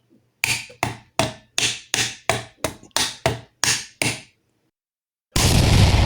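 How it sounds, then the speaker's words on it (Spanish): A thick screwdriver taps the boiler of a Krups Inissia coffee maker in about ten sharp, evenly spaced metallic knocks, close and loud, followed by a sudden burst of broadband noise. "cogemos un destornillador gordo y le damos en esta dirección, aquí, que es una parte rígida. Le damos unos golpecitos."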